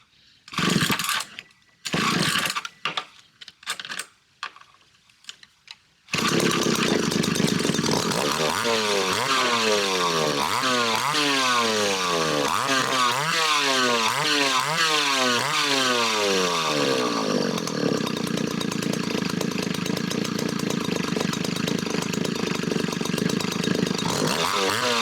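An old Hitachi chainsaw under repair has a few sputtering pull-start attempts, then its two-stroke engine catches and runs loudly and close, revving up and down repeatedly before settling into a steady drone.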